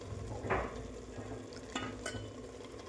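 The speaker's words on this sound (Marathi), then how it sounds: "आता यात गाजराचा किस टाकूयात आणि तो तुपात 1-2 मिनटं चांगलं परतून घेऊयात." Grated carrot sautés in ghee in a pan, a faint, low sizzle broken by a few brief scraping and clinking stirs, with no voices.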